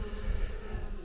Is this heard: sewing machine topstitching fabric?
no